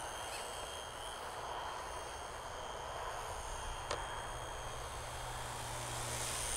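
An Eachine E160 brushless RC helicopter hovering and yawing on its tail rotor, giving a steady, fairly distant whine with a constant high rotor tone and no talking.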